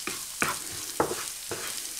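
Stirring chopped rosemary into a warm vegan tomato mixture in a pan: four short scraping strokes at a steady, unhurried rhythm, close up, with a faint sizzle and no talking.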